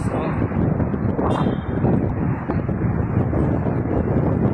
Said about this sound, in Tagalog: Mahangin ngayon. Hindi masyadong magandang maglakad. Masyadong mahangin.